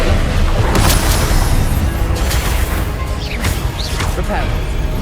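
Confringo blasting spell explosions in Hogwarts Legacy on PS5, dense booming blasts and whooshes filling the whole stretch, loud and close with sharp magical zips layered over the rumble.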